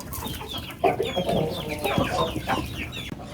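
Aseel chickens cluck close by in a rapid, chattering series of calls, with busy fowl noises overlapping one another across a few seconds and no talk over them.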